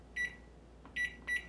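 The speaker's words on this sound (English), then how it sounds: "Kitchen timer." A kitchen timer being set for twelve minutes while apple tarts bake gives three short, bright electronic beeps: one, then a pause, then two close together, fairly quiet over a faint room hum.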